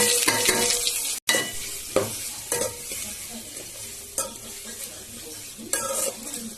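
Onions, green chillies and curry leaves sizzle steadily in a hot pan while a utensil stirs and scrapes through them in several brisk strokes, up close and fairly loud.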